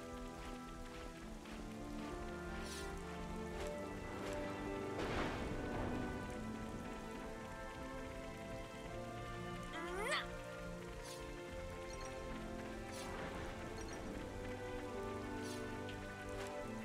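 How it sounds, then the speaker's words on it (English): Steady rain patters across a surface throughout in the video game Xenoblade Chronicles 3, with a voice talking over it and music-like tones in the background. "Considering that it is raining."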